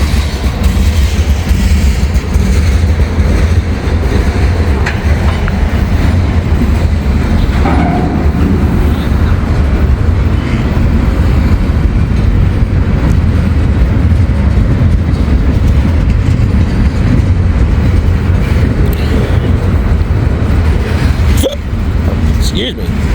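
A mixed manifest freight train rumbles past steadily and close for the whole span, a continuous loud low roar of railcars with faint rail clatter. Someone talks over it at times.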